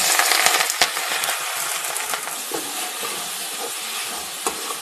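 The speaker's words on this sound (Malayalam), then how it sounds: "തോരൻ തയ്യാറാക്കുന്നതിന് വേണ്ടി എണ്ണ നല്ലോണം ചൂടായിട്ടുണ്ട്. ഇതിലേക്ക് ചതച്ചു വച്ചേക്കുന്ന തേങ്ങ ചേർത്ത് കൊടുക്കുക." Crushed coconut dropped into hot oil for mussel thoran gives a bright, crackling sizzle that is loudest at first and then settles into steady frying, with scattered pops and clicks.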